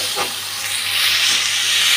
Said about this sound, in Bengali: চিংড়ি মাছটা নুন হলুদ মেখে রেখেছি, ভাজতে দিয়ে দিচ্ছি।